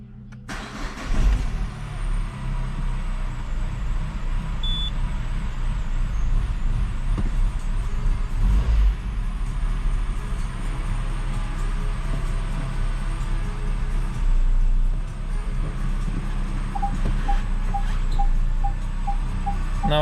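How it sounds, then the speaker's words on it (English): A Peugeot 207 with a 1.4 petrol engine, just fitted with a new clutch, cranks and fires into a steady, low idling rumble that carries on close by for the rest of the clip, with no voices. "now I can start the engine for the first time, and after that I can also test drive the vehicle"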